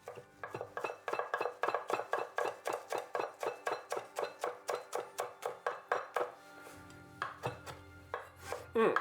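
A knife chops food on a wooden chopping board in a home kitchen with quick, even strokes, about twenty crisp taps in a steady rhythm, then a few slower, scattered cuts. The sound is close and clear, with no talking.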